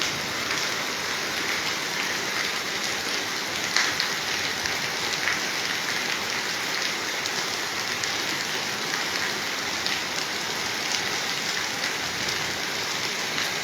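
Steady, heavy first monsoon rain pours down without pause on a village in Punjab's Malwa region, a dense hiss of drops on surfaces all around, loud and unbroken throughout.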